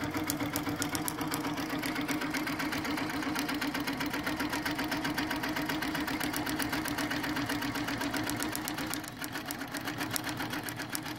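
A computerized ProStitcher quilting machine stitches automatically around a traced outline on a quilt, giving a continuous, even, rapid mechanical stitching rhythm that stays loud and close throughout, with no talking.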